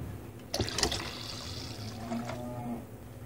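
Water is poured into a sattu sharbat mix of black salt and lemon juice, starting with a sudden splash, then a gurgling fill that runs for a couple of seconds before tapering off, close and alone.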